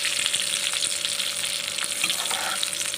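Spices crackle and sizzle steadily in hot sesame oil while being tempered for a mango fish curry, with a dense continuous frying hiss and occasional stirring clicks close by.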